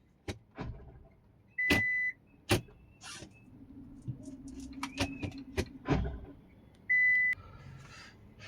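An AMT semi-automatic car shifting into reverse gives several sharp, close clunks and thuds in a quiet cabin, mixed with a few short electronic beeps.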